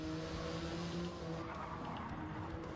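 A race car in a racing video game roars close by with tyres squealing and skidding, a loud continuous engine drone under the screech throughout.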